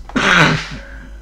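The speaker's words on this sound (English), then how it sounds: "I'm gonna sneeze again." A single human sneeze, a sharp intake followed by a loud, close burst that quickly fades.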